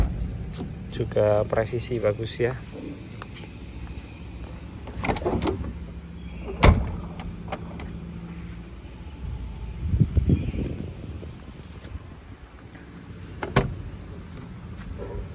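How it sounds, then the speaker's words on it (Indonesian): Left door of a 1994 Daihatsu Taft GT opened and shut, with several sharp close thumps and latch clicks, fairly close, while someone talks over it. "Buka tutup pintu kiri"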